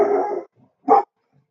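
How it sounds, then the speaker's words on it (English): A dog barks close by, first one long bark and then a short sharp one after a pause, in an otherwise quiet room. "sorry about my dog"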